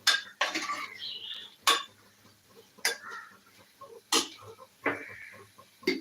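A metal spoon scrapes and clanks against a pan while stirring spices for a potato curry, in several sharp bursts, with softer scraping between strikes, close by and with no talking.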